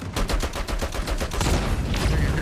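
Rapid automatic gunfire in the mobile shooter game Call of Duty Mobile, a loud close burst of evenly spaced shots that blurs into a dense rattle toward the end, with no talk over it.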